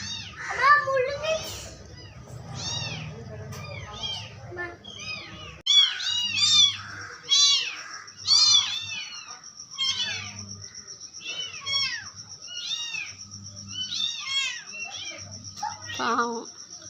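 A cat meows repeatedly, several distinct rising-falling cries spaced through the scene at close range, while children talk and chatter around it and a steady low hum runs underneath.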